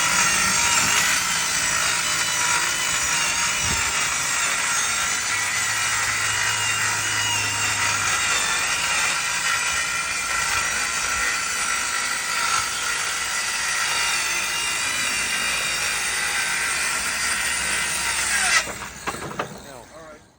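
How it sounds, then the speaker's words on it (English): A Ryobi PCL500 5-1/2 inch cordless circular saw cuts through wood with a continuous high, whining buzz that holds steady for about eighteen seconds before winding down, while a person talks faintly underneath. "it's a cordless circular saw from Ryobi that uses all of the One Plus battery options"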